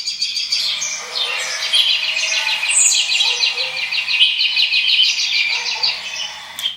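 Dense bird chirping and tweeting from a nature-sound alarm recording fills the clip continuously, with many overlapping calls, some quick trills and a few squawks, steady and moderately loud.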